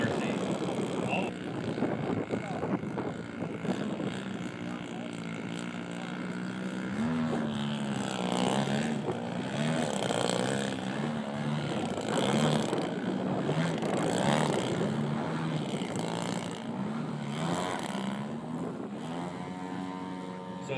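A 114-inch Slick 3D RC model airplane flies aerobatics at an air show, its propeller engine droning and wavering in pitch as it maneuvers, with people talking over it throughout.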